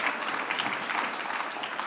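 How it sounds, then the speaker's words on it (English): Conference audience clapping in a short, continuous burst, a dense even roll of many hands at a steady moderate level with no talk over it. "Come on, you clap on that."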